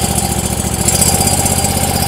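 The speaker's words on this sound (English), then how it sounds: "I'm gonna slowly increase my engine speed here to give him ample flow" A gas engine on a pressure washer runs steadily on a cold January morning as it warms up, with a loud, close, continuous buzzing drone and no talk.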